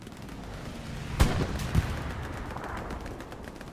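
A Panzer IV tank fires in a Hell Let Loose battle, giving one sharp, punchy gunshot and then a second smaller one over a low, steady rumble of combat noise at moderate distance.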